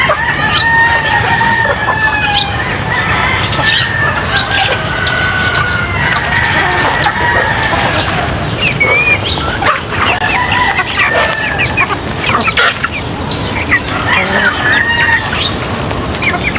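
Many chickens clucking and squawking nearby in a busy, overlapping chorus, with a rooster's crow mixed in; loud and continuous.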